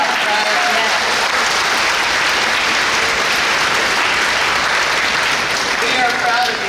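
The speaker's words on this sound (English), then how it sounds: "Give yourselves a round of applause right now." Parents in an audience give a sustained round of applause at a school board presentation, a steady, loud wash of many hands clapping with voices mixed faintly underneath.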